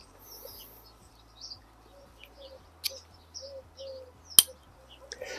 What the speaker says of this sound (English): what we'd be looking at here is the sound of the clips opening and closing